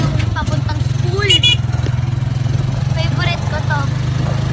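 A motorized tricycle in La Union, Philippines, heard while riding as a loud, close, steady pulsing engine throb, with people chatting over it.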